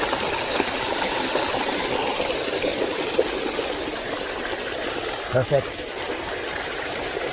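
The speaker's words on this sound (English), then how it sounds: "Now this fountain was built later. It says Smyrna, but the water source is original." An old public fountain in Izmir keeps running water flowing in a steady, continuous trickle and splash, with a voice speaking briefly over the stream.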